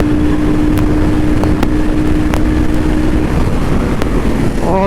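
A Royal Enfield Guerilla 450 motorcycle pulling hard through the gears, a loud continuous engine roar buried in heavy wind buffeting, with a steady tone that breaks off near the end as it shifts up.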